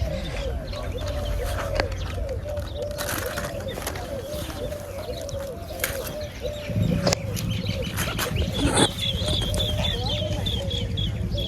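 Birds call and chirp repeatedly over a steady background hum near a filled lake, with a few coo-like notes; the calls are moderately close and continuous throughout.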